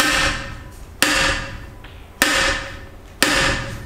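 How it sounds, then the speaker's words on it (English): A hammer strikes a carbon road bike frame four times at roughly one-second intervals, each sharp, loud crack ringing briefly before fading. "I want you to smack it with a hammer."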